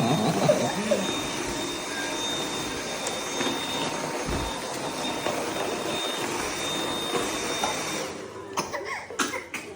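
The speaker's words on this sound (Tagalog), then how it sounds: "Pag nagba-vacuum, tinitignan niya si vacuum." A household vacuum cleaner drones steadily at moderate volume with a thin high whine, running continuously while a small child and adults make occasional sounds nearby before the motor cuts off near the end.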